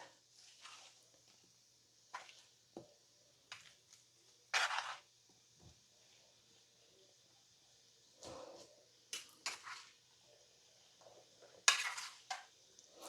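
Butternut squash being turned in a cooking pan with a utensil after about twenty minutes of cooking, giving scattered close scrapes and clinks of metal on the pan in short irregular bursts over a quiet background.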